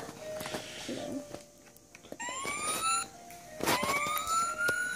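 Recorded siren sounds from a children's emergency vehicles sound book, rising wails sweeping up in pitch, heard twice, fairly loud and close, with brief speech and page handling around them.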